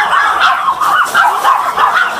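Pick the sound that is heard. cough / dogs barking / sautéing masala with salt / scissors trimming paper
dogs barking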